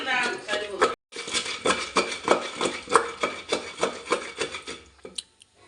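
Green chillies with a little salt being pounded finely by hand for a roti pachadi, a steady run of rhythmic thuds, about a dozen close, even strikes, with a brief voice at the start.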